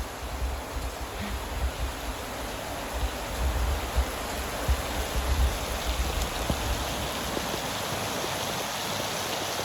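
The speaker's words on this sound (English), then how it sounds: "the rain just doesn't stop coming" Heavy tropical rain in far north Queensland pours down steadily, a dense hiss of drops with a low rushing undertone and occasional louder splashes, no voices.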